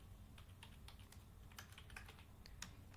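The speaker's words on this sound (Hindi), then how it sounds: "यहाँ पर मेरा पासवर्ड लिख रहा हूँ" Password being typed on a computer keyboard: quiet, irregular key clicks tapping in a quick, uneven rhythm over faint background hum, with no talking.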